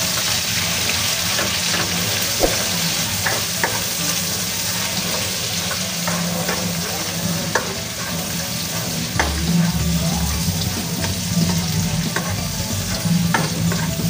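Onions for a tilapia dish are stirred and sautéed in a pan, a continuous sizzle and fry with repeated scraping stir strokes throughout and no talking.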